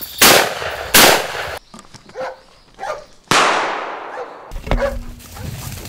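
Several sharp gunshots crack out during a roe deer hunt with dogs on Hallasan, Jeju, two close together, then more after pauses, each leaving a fading echo amid outdoor rustling.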